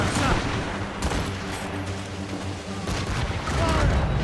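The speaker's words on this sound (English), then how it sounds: "They are firing a volley!" Cannon volleys boom out in a naval video game battle, a dense rolling barrage of broadband blasts that keeps going under steady low rumble, with shouted commands mixed in.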